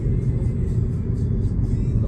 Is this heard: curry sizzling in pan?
no